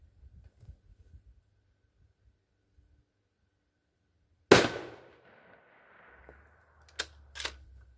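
A 6.5 Grendel rifle firing a Barnes 100-grain TTSX round at a 100-yard target lets off one loud, sharp shot that rings away, followed by a couple of fainter knocks a few seconds later.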